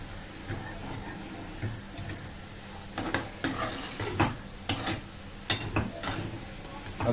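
Chicken mince with spices frying in a pan gives a soft, steady sizzle, broken by sharp clicks and scrapes of a spoon stirring against the pan, fairly close but quiet.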